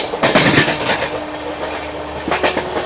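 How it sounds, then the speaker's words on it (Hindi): Garib Rath Express train running on a parallel track beside a moving train near Mathura, heard as a steady rolling rumble with rail clatter and a few brief louder passing surges. "तो फाइनली ये लो भाई साहब गरीब रथ एक्सप्रेस के साथ पैरेलल रन।"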